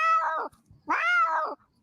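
Two long, loud, drawn-out cat meows with a caterwauling, yowling quality, close by, separated by a short pause, with no talking.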